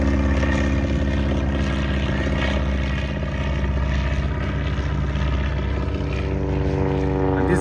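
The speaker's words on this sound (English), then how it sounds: "that's the Spirit of St. Louis aircraft" The Spirit of St. Louis propeller aircraft flies past at the Oshkosh AirVenture 2023 airshow, its engine droning loudly and steadily with a strong harmonic hum that holds throughout.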